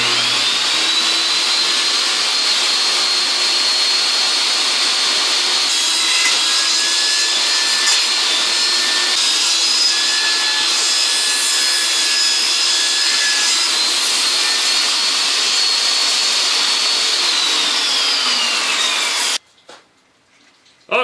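Power saw trimming about a quarter inch off the top of a board on an under-porch storage build, a loud, steady whining cut running nearly twenty seconds before stopping abruptly, with a faint thump after.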